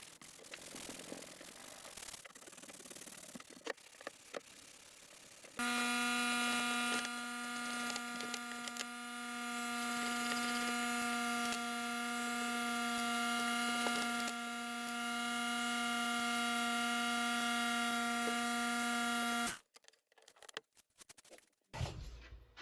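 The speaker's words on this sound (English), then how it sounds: "we're going to go ahead and get all this stuff sanded down" A block sander works the nose panel of a Nissan 300ZX. Scraping strokes come first, then a loud, steady motor whine runs for about fourteen seconds before cutting off, followed by brief handling noises.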